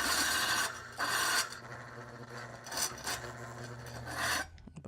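Close rasping scrape of a blade being sharpened, repeated rough strokes with short surges and dips in loudness, ending abruptly, with no speech.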